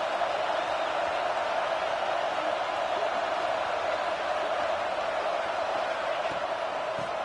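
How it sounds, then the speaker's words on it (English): A stadium crowd in an American football video game roars in a steady, broad wall of cheering noise that holds evenly throughout, loud and continuous with no clear peaks. "the crowd coming to life here, trying to help this defense down in the red zone"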